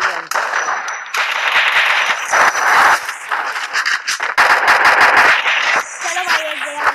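Video game gunfire rattles in rapid automatic bursts, dense and loud, with brief gaps between volleys and faint voices around the shots.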